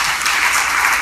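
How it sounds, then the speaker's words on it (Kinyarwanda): A church congregation claps together in praise, a brief dense burst of many hands, loud and close, with no other sound standing out. "dukwiye gukomera Imana amashyi tukamushimira"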